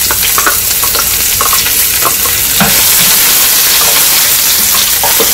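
Curry leaves hitting hot oil with already-popped mustard seeds while making beetroot pachadi, a loud close sizzle with crackles and stirring scrapes throughout, no talk.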